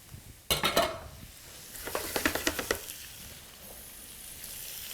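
Squid and prawns drop into a hot pan with a sudden loud sizzle, followed by a run of quick scraping stirs and a softer, steady hiss as they cook.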